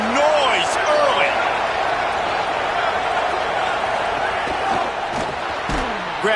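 Steady, loud roar of a stadium crowd in an NCAA football video game, a dense wash of cheering that holds throughout under faint commentary-like voices.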